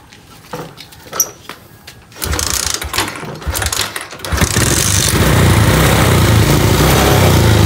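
A small engine fires up after a repair, with a few clicks and rattles before it catches, then settles into a loud, steady, continuous running drone up close.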